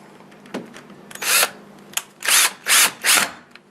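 Power drill driving a screw into a door handle: a few short whirring bursts, then three longer loud drilling runs in a steady rhythm, close up with no talk.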